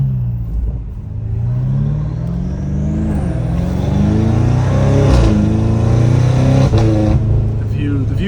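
Straight-piped BMW M5 Competition exhaust at low RPM while driving: a loud, close, deep droning rumble that rises and falls gently with throttle, continuous throughout.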